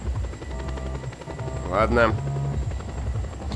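A military helicopter in Just Cause 2 drones with a steady rotor hum and low pulsing, while someone talks briefly over it.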